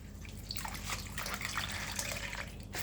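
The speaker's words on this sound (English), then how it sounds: "Just going to give it a dip and a wring out." Sock yarn skein dipped into a tub of water during natural dyeing and squeezed out, giving a steady close wet swishing and trickling with splashy bursts, no talking.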